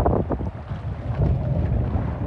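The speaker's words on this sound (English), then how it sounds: "but this wind's going to be a killer too" Strong wind buffets the microphone on a fishing boat at sea, a low roaring rush with gusty swells and some water noise, loud and continuous with no voices.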